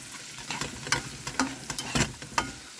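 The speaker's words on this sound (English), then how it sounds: "I'm just going to saute this up really well." Food sautéing in a pan sizzles continuously up close, broken by several sharp scraping stirs in an irregular rhythm, with no speech over it.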